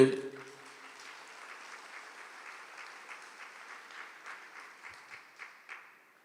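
Church congregation applauding on the priest's call, a broad steady wash of many hands clapping that fades out gradually toward the end, with a brief voice at the very start.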